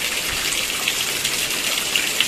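Steady hissing rain pours down, with occasional brighter drip splashes breaking through the dense, even wash of water.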